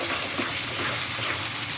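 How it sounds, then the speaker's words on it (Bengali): Mustard paste and spices sauté in hot oil for a thin fish curry, giving a steady, even sizzle and bubbling hiss, close and unbroken, with no voices. "এখন বেশ কিছুক্ষণ মশলাটা কষিয়ে নেব"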